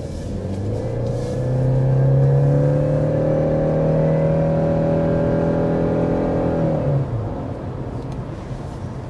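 A 2026 Subaru Crosstrek in SI drive sport mode accelerates hard, its engine note rising in a steady droning climb for several seconds before easing off, heard from inside the cabin with no talking.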